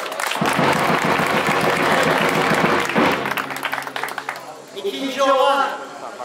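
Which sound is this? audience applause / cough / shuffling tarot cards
audience applause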